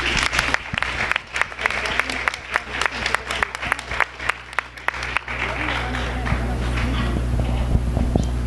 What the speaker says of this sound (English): Can we have a round of applause for all of the students?